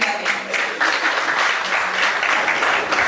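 A crowd at a cable network award show applauds steadily as a comedian is welcomed onto the stage, a dense, even wash of clapping that holds throughout with no talk.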